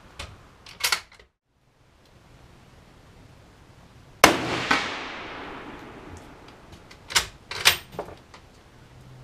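One loud shot from a Carcano rifle loaded with 29 grains of Vihtavuori N140 cracks out sharply and rolls away in a fading echo, with a few faint clicks and handling sounds before and after.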